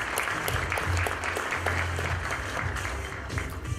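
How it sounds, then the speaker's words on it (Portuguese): Audience applauding a panelist at a discussion on new regulations and innovation, a steady bed of clapping with a low hum or murmur underneath, moderately close. "Uma salva de palmas para o Eduardo."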